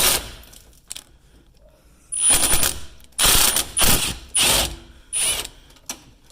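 Bursts of a power drill loosening a radiator bolt under the bumper of a 2010 Chevy Aveo, four or five short loud whirring, ratcheting runs close by, separated by brief pauses.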